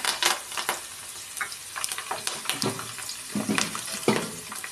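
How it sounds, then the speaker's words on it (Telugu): Curry leaves, garlic and dried red chillies crackle and sizzle in hot oil as tempering for tomato chutney, sharp close pops and bursts over a steady frying hiss. "తాలింపు వేస్తున్నాను అనమాట పచ్చడికి"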